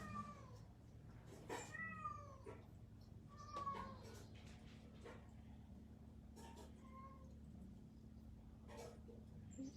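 A cat meows repeatedly in short, rising and falling cries, fairly faint over a constant low mechanical hum, with pauses between calls.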